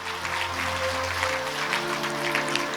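Steady crowd applause keeps going throughout a church ceremony, with sustained organ-like tones holding underneath.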